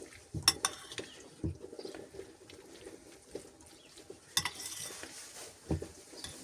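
Salad being mixed with mayonnaise, with scattered clinks and scrapes of a utensil against a bowl, a few sharper knocks among quieter soft stirring, close and fairly faint, with no talking.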